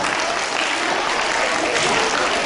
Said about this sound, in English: I request the children to give them a huge round of applause.